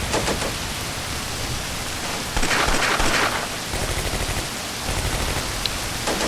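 Soldiers firing from buildings in the World War II strategy game Combat Mission Beyond Overlord, a dense crackle of continuous gunfire that swells briefly in the middle and holds steady throughout, with no talk.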